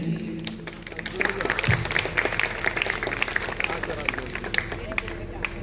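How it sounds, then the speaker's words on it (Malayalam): A school alumni gathering in Tirur gives a minister a warm welcome with dense, lively applause from the audience, many hands clapping steadily at close range over a background of crowd murmur. "നല്ലൊരു കയ്യടിയോടുകൂടി നമുക്ക് സ്വാഗതം ചെയ്യാം"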